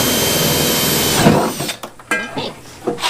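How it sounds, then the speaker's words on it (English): Power drill boring through a plastic tub for a self-watering container, a loud whirring grind for over a second that stops abruptly, leaving scattered clunks and handling noises. "I can't say I've drilled through it."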